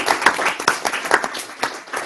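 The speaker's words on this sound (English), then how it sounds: "Give everyone a round of applause." Short round of applause for hackathon teams at a 2019 demo event, a scattered room of hands clapping in uneven bursts, close and fairly loud, with no talk over it.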